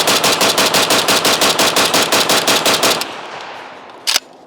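Pioneer Arms Hellpup AK pistol fires a long, loud, steady burst of rapid shots for about three seconds, then falls quiet except for one sharp clank near the end.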